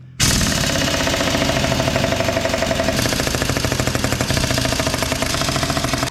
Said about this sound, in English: I need an electric impact wrench.